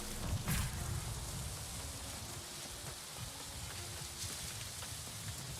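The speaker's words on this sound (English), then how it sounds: "but I love the rain" Rain falling in the game New World, a soft, steady hiss of drops on surfaces with a faint low rumble, quiet and continuous throughout.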